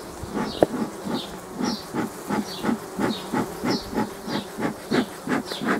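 Honey bees at a hive buzz steadily close by, their drone pulsing in a regular rhythm with a faint hiss, no voices.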